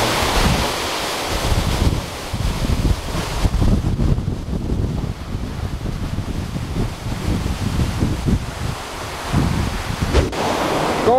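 The Paccha waterfall and the river below it near Mariano Acosta, Pimampiro, in Imbabura, Ecuador: a loud, steady rushing roar of falling and flowing water close by, with gusty rumbles and no voices.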